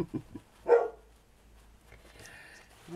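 Dogs bark indoors in a short burst near the start, one or two close sharp barks, then the room falls mostly quiet with faint background noise.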